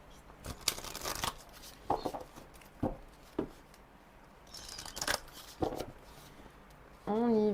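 Tarot cards are shuffled in several quick riffling bursts spaced a second or so apart, close and crisp, with a voice speaking briefly at the end.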